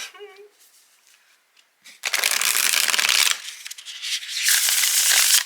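Tarot cards riffle-shuffled by hand, a brief quiet rustle and a pause, then two loud crackling bursts of cards shuffling close to the microphone, with a short voice at the start.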